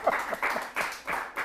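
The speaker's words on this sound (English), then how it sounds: "Round of applause for that, please." An audience in a studio show gives a short round of applause, its clapping coming in quick uneven bursts at moderate volume, with no speech over it.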